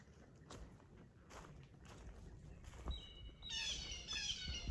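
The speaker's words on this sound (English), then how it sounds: "some bird sounds" Birds chirp and tweet in the distance along a hiking trail, sparse at first, then a brighter run of calls near the end over soft outdoor rustling and footsteps.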